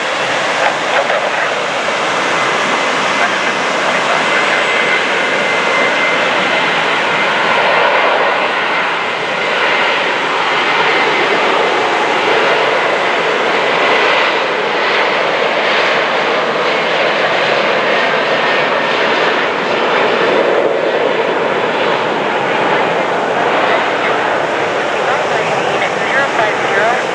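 A United Airlines Boeing 737-900ER jet taking off at Portland International Airport, a loud, sustained engine roar that holds steady throughout, with radio voices heard faintly underneath.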